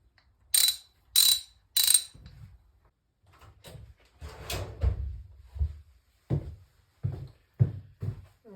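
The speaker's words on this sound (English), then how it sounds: "now for the Kickstarter shaft installation" A kickstarter shaft goes into a motorcycle gearbox, giving three sharp metallic clicks followed by a run of knocking, sliding and clunking mechanical sounds, close and fairly loud, with no talking.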